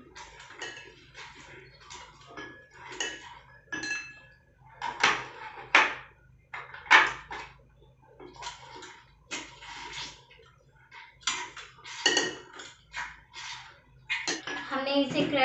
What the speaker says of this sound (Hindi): अच्छे से क्रश करेंगे, इसका तो जूसी फ्लेवर आना चाहिए।